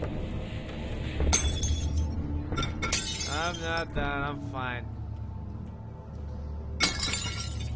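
Wine bottles smash repeatedly in the horror video game Amnesia, sharp glass shatters bursting at intervals, the loudest near the start and end, with someone talking over parts of it.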